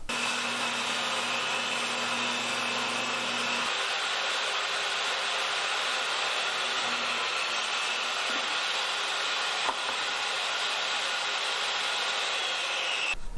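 A power saw rips a 2x4 lengthwise into strips, giving a steady, loud motor whine with slight shifts in tone as the blade works through the wood, with no talk.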